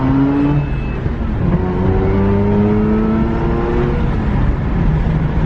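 A Mazda RX8 R3 rotary engine pulls hard through a newly fitted exhaust, a loud, continuous buzzing drone whose pitch sweeps steadily upward, with no voices over it.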